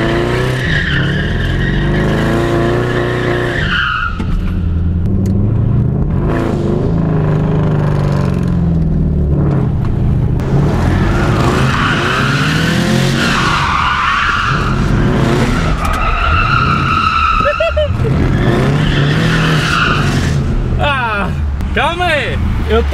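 A Chevrolet Camaro drifts with its engine revving hard and surging in pitch while the tyres squeal and skid in long bursts, loud and close, with people talking over the noise throughout.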